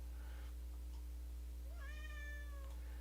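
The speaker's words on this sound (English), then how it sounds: "Oh, that little cat meowing over there." A little cat gives a single drawn-out meow, soft and somewhat distant, over a steady low electrical hum, with no voices.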